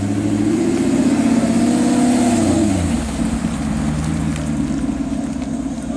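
A Maserati MC Stradale convertible at a supercar gathering, its engine holding a loud, steady rev before the note drops and settles into a lower rumble, close by and without voices.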